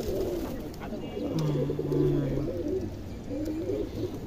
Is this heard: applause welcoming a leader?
no